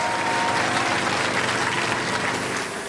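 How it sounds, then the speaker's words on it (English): Studio audience at a robot combat competition giving a round of applause, dense continuous clapping and crowd noise that stays loud and even, easing slightly at the end. "Give them a round of applause"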